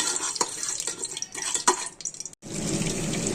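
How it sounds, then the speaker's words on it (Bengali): Sugar fries in hot oil for a chicken curry, a continuous sizzling hiss with scattered crackles and stirring taps, broken by a brief silent gap before the sizzle resumes steadily. "এবার চিনিটাকে একটু ভেজে নিই"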